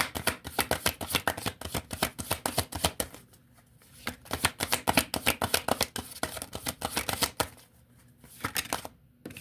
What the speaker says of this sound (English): Let me take one more card.